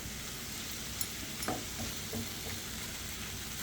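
Sautéed romaine lettuce and mushrooms in a pan: a soft, quiet sizzle with a few light scraping and stirring clatters of a utensil against the pan, with no voices.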